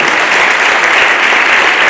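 A crowd at a religious ceremony marking an acharya's installation day claps steadily, a loud, dense wash of applause that continues without pause.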